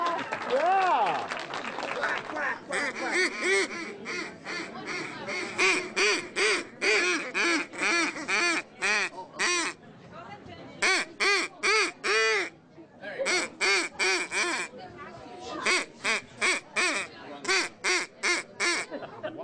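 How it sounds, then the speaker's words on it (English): A hand-blown duck call, heard at a snow goose festival, sounds rapid series of nasal, reedy quacks in rhythmic bursts, loud and close, with short pauses between volleys and some talking early on. "that's a duck call, of course, as opposed to a goose"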